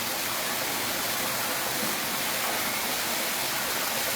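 Rainwater topped up with mains water pours steadily into a tank being filled, a loud continuous rushing splash with no pauses.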